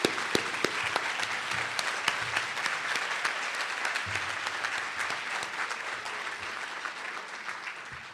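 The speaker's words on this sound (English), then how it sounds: "Please stand and give them a round of applause." A luncheon audience applauds an outstanding group of leaders, a full, sustained burst of many hands clapping, with occasional crisp nearby claps and a brief low rumble partway through.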